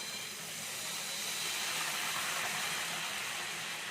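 Water splashed into a hot pan while cooking oil-free aloo kulcha, giving a steady, loud steam hiss that runs evenly through the whole stretch with no talking.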